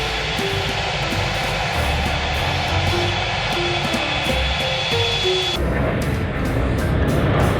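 A toy aeroplane plays its engine sound effect: a loud, continuous mechanical whir with shifting electronic tones that changes character abruptly partway through, close up and with no talking over it.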